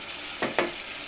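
Yogurt chicken being sautéed in a pan, a steady sizzle with two quick close scraping stirs of a spatula.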